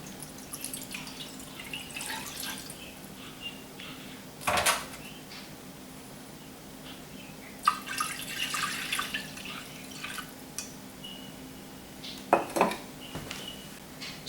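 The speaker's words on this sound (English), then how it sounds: "So we'll start out with 2 cups of water in a casserole dish." Water poured into a casserole dish in a home kitchen, with splashing, trickling and a few clinks of dishware scattered through a quiet room.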